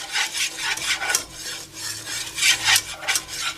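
Roux and milk for BBQ nacho gravy being stirred briskly in a pan, giving rhythmic scraping and rubbing strokes, about three per second, close and fairly loud with no voices.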